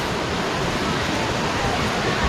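A waterfall roars steadily in a jungle trek setting amid tall elephant grass, a loud, continuous broadband rush with no pauses or talk.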